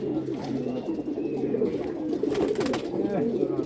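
Pigeons coo softly and continuously in a tournament loft, a low murmuring hum under a person speaking.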